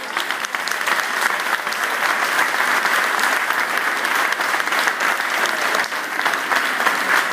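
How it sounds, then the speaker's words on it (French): Audience applause at a live French event in Avignon, a loud, sustained wash of many hands clapping continuously with no pause. "encore plus fort les applaudissements quand même"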